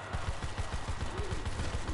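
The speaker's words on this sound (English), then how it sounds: "I'm shooting so slow, I should shoot faster" Repeated gunshots in Call of Duty zombies on the Alpha Omega map, a steady rhythmic string of muffled shots, fairly quiet and close, no talk over it.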